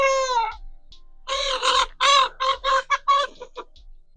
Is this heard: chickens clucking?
yes